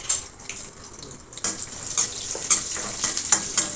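Garlic, curry leaves and peanuts sautéing in hot oil for Marathi chivda: a close, steady sizzle and frying crackle, broken by several sharp scrapes and clinks of a spoon stirring the pan.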